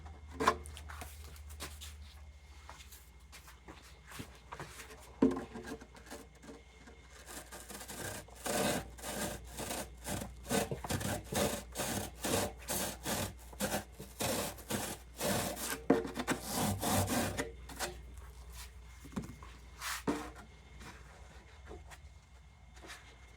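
Someone carves a groove into the back of a trophy buck taxidermy form, producing a run of rhythmic, close scraping and sawing strokes that start sparse, grow dense and steady through the middle, then thin out to a few last strokes.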